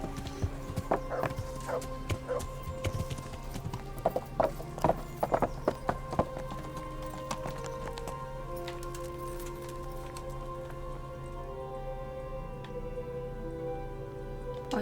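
A ridden horse in Kingdom Come: Deliverance, the medieval video game, clip-clops with steady, close hoofbeats, a brief whinny early on, then fades to a quieter ambient bed toward the end.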